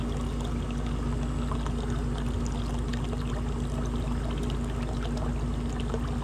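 Hot water pours and trickles steadily out of a DIY solar pool heater, a continuous close splashing stream with a low steady hum beneath it.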